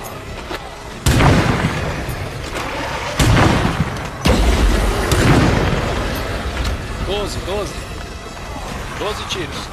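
Heavy booming gunshots burst out in a few loud clusters over game sounds and chatter, with sharp impacts and rumbling echoes, in the video game State of Decay 2.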